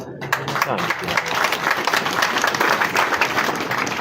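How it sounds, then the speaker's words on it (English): A crowd at a live political address at Makerere Kavule claps, a loud, uneven patter of hands with a voice mixed in beneath it. "as you clap your hands"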